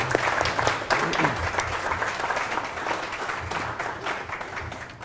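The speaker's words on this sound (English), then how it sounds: "Big round of applause for Pablo, please." A live-stream business book club audience breaks into full applause, dense and continuous, gradually easing in loudness over a few seconds with faint voices mixed in.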